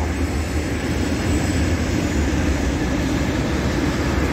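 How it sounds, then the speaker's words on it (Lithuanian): A train rumbles steadily along a railway track in the dark Paneriai forest near Vilnius, a loud, continuous broadband roar that holds throughout with no other sounds standing out. "Nu va, traukinys atvažiuoja."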